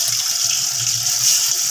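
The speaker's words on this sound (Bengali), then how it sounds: "ফার্স্টে চিংড়ি মাছটা মা ভাজতে শুরু করলো।" Prawns frying in hot oil in a wok, a loud, dense, even hiss that holds steady the whole time.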